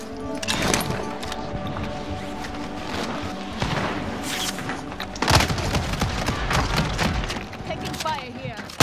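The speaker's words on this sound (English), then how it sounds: "Taking enemy fire." Rapid gunfire crackles through a video game shooter battle with voice callouts, sharp bursts and a heavy boom standing out against a busy, dense mix.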